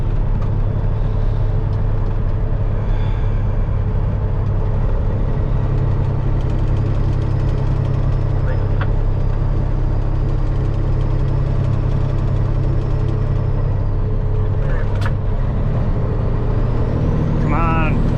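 A Peterbilt truck with fuel problems, losing power while climbing a hill, fills the cab with a loud, steady low diesel drone from start to finish, broken only by a couple of faint high squeaks.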